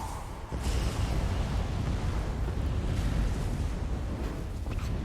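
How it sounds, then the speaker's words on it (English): Fiery dragon fireball blasts roar in Elder Scrolls Online, a dense, sustained rumbling explosion that swells after a brief opening and stays loud and near throughout. "Do these fireballs have auto aim?"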